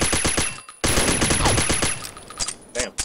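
Rapid game gunfire in Combat Arms, including sniper rifle shots, rattles out in dense bursts and volleys, loud and close, with a sharp cut of silence partway through before the firing resumes and thins into scattered shots.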